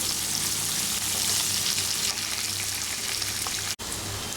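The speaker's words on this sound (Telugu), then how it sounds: "ఈ ఉల్లిపాయలు వేసినాక ఒక రెండు నుండి మూడు నిమిషాల పాటు వీటిని ఫ్రై చేయాలి" Chopped onions and green chillies fry in a pan with a dense, steady sizzle that runs without a break and is heard alone.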